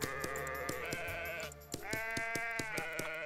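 Sheep in the video game Super WorldBox bleat in a clear, close series of wavering calls. The calls repeat several times, alone and without talk.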